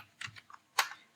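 A few quick, close computer keyboard keystrokes, two or three soft clicks then one sharper tap, as JavaScript code is typed.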